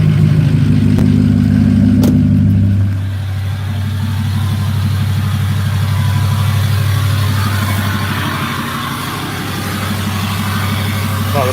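An older 6.0 diesel truck engine cranks over after the glow plugs warm, then settles into a steady, loud, rumbling idle with a rhythmic clattering knock.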